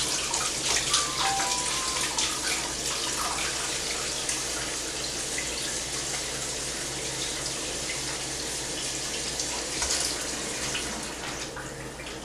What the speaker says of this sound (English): And then I take a little bit of warm water.